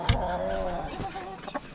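A Brahma hen in a coop gives a short run of clucks, close and clear, over a brief moment of background noise.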